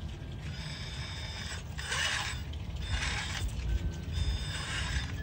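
A Castle Copperhead 2100 kV 1412 motor running in an RC crawler, a faint whirring hum with bursts of clicking, ratcheting gear noise that rise and fall several times, slightly noisy and close, with no voices.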